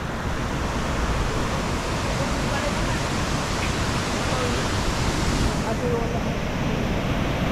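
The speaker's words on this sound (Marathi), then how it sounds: "एक ऑफबीट आपल्याला वॉटरफॉल भेटलाय" An offbeat waterfall beside a small bridge on the Lingmala waterfall road in Mahabaleshwar roars loud and close, a dense unbroken wash of water that may carry some wind buffeting against the microphone.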